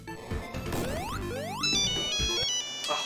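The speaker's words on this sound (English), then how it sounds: "My phone's making a noise." A phone rings in a cartoon scene with a bright electronic ringtone of rising sweeps and stepped beeping tones, moderately loud and close, mixed with some clattering effects.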